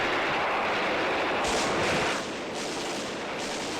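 Gunfire rattles continuously through a tense military scene in an Urdu drama, a dense, steady roar of shots at moderate distance, easing slightly after a brief louder swell, with no talk over it.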